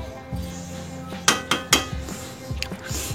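A metal lid set onto a pot of peas pulao, giving three sharp clanks close together with lighter metallic clinks after, over a quiet kitchen background.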